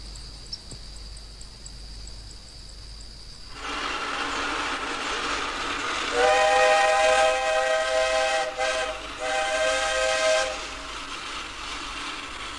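A Shay steam locomotive in Negros hisses loudly, then sounds a long harmonic whistle in several blasts, with chuffing and mechanical clatter underneath.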